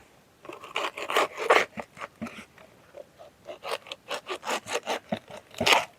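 A banana stem is cut to an even length with a blade in a series of close, rhythmic rasping strokes, some stronger and some lighter, with short pauses between them and no talking.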